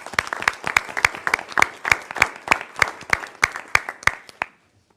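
A small audience at a meeting claps for people receiving an honour, giving a few seconds of distinct, fairly close claps at an uneven rhythm that stop abruptly into silence.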